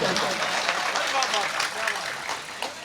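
Applause from a mushaira poetry recital audience, a steady, dense wash of many hands clapping at fairly close range for a few seconds, with voices mixed faintly in the crowd noise.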